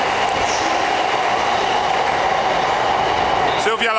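A long 400-meter train pulls into a station with a loud, steady rumble and roar of rolling wagons. A brief squeal and clatter sound near the end.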